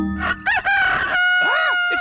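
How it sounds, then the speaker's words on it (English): A cartoon cockerel from the elf farm crows loudly and close, a long drawn-out cock-a-doodle-doo with bright harmonic tones and sweeping bends, alone in the quiet early morning. "It's the cockerel from the elf farm."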